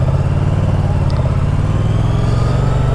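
Moto Guzzi V100 Mandello S ridden at steady speed, its engine a loud, even low drone with wind rush and no speech.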